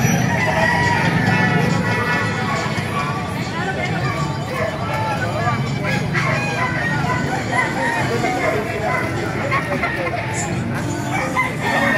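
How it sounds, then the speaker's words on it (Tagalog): Several roosters crow repeatedly over a busy crowd of murmuring voices and background bustle at a market in Baliuag, Bulacan, loud and close throughout. "Ito mga ganda manok."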